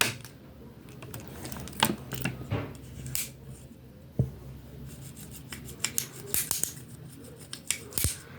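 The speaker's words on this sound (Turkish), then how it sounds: "Mesela şu şekilde su şişesine yazalım." An outline marker pen writes on a plastic water bottle, giving close, dry, scratchy strokes in short uneven bursts with brief pauses between them and no talking.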